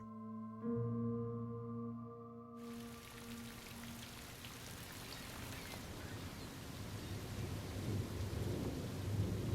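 A wind and rain storm off the island of Ventotene, with a steady dense roar of rain and gusting wind, thunder rumbling low, continuous and building slightly louder toward the end.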